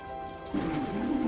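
Low, throaty cooing from a loft of pouter pigeons, including crested Upper Silesian pouters, starts partway through and continues in soft rolling phrases, close by against a faint background hum.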